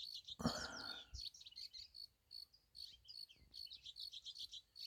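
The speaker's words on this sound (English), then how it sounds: "I guess you can hear all the birds in the background." Faint birds chirp and tweet in scattered, overlapping calls in the distance, with a brief rustle near the start.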